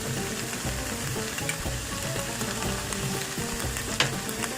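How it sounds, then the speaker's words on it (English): Aloo gobi with garam masala frying in a pan and being stirred, a continuous close sizzle with scraping stir sounds and an occasional sharp clink of the utensil. "Stir that in and let it cook."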